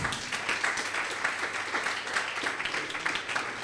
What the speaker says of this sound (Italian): Un applauso a Antonio Urzi.